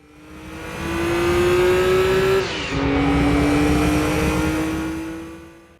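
Racing car engines in the PlayStation game Gran Turismo 2, a loud, close engine holding a high steady whine, briefly dropping as it shifts, then climbing again with a faint tire squeal underneath.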